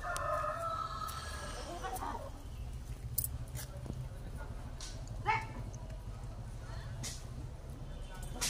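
A rooster on a rural homestead crowing, with farmyard dogs barking and chickens clucking in a busy outdoor background.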